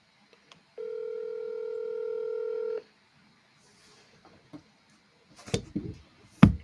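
A telephone plays a steady dial tone for about two seconds and then goes quiet, followed by a few scattered clicks and sharp knocks as an outgoing call is placed.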